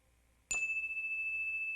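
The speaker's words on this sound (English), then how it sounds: "As the sound of the bell fades into the distance, allow your eyes to close." A single meditation bell strike rings out clearly, then sustains a pure, steady tone that lingers without fading over the following moments.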